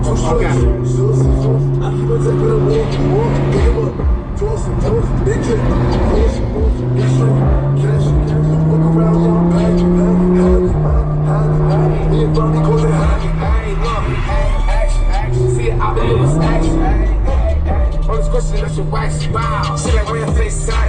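Lamborghini Huracan 5.2 V10 pulling hard on city streets in California, a loud, continuous engine roar with rising pitch sweeps as it climbs through the gears, with people talking over it.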